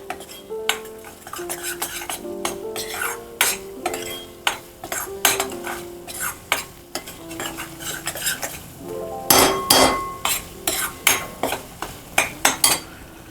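Egg curry masala is sautéed in oil in a pan, with rapid rhythmic metal spoon clanks and scrapes over a low sizzle. The strokes grow louder and denser toward the end.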